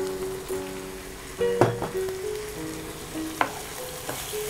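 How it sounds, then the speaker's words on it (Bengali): Chopped onions sizzle and fry in a hot pan on a gas stove, a steady crackle broken by a few louder stirring scrapes and clinks. "পেঁয়াজটা আমরা খুব বেশি ভাজা ভাজা করলাম না"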